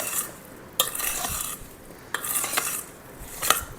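A spoon stirs cornstarch and lemon juice into a blueberry galette filling in a bowl, giving soft scraping swirls with a few sharper clicks against the side. The sound is close and continuous.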